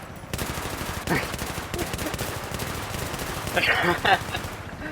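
Rapid bursts of automatic machine-gun fire in Battlefield 3 crackle continuously, dense and sharp, with a couple of louder bursts near the end, in a synthetic game-like mix.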